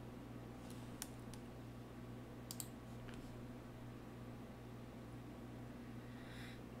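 Faint computer mouse clicks, a few sharp isolated taps spaced out over a low steady hum of a fan or room noise.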